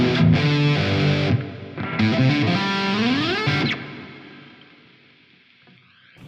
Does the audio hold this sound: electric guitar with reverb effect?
yes